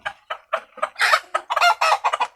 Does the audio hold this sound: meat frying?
no